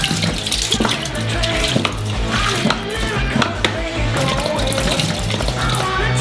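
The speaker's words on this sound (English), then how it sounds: "We take a lot of milk out of the refrigerator. Open them up. And pour them into a large saucepan." A large quantity of milk poured from cartons into a huge saucepan, a loud, continuous splashing gush heard close up for several seconds.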